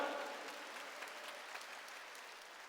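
Sustained applause from a church congregation during a sermon fills the space evenly, a dense wash of many hands clapping that gradually fades slightly over a few seconds, with no voices over it.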